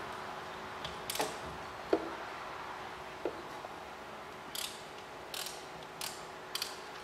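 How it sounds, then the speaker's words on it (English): Ratchet with a small socket working on a clutch bleed nipple, giving a few sparse, quiet clicks and short metallic ticks spread apart over a low background hum. "I'm going to try with a smaller ratchet rod, or a smaller socket rather than a long reach one"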